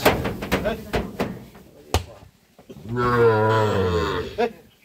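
After a few sharp knocks and brief talk, a four-month-old Sahiwal bull calf lets out one long, fairly loud moo nearby.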